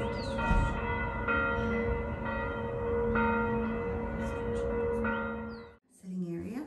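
Church bells in Italy ring in the morning, a loud, steady peal of overlapping tolls that carries for several seconds before cutting off, followed by a brief voice.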